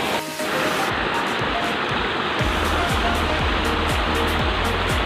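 A small waterfall at a grandparents' home in Manguiyeng pours in a steady, close rush of water that keeps a loud, even wash throughout.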